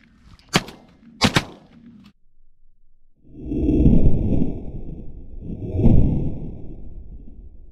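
Two sharp gunshots crack close by during an outdoor pigeon hunt, the second following quickly with a brief echo, then a loud rushing rumble of wind or movement swells twice.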